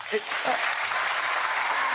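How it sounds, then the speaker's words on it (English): Brief burst of studio audience clapping on a television show, a dense even patter of many hands holding steady for a couple of seconds. "They're clapping him."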